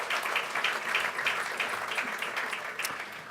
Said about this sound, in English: can we give these people also a round of applause